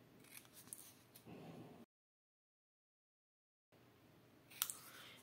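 Scissors snipping paper for a homemade Advent calendar, quiet and close: soft cutting sounds, a silent gap, then a sharp snip near the end.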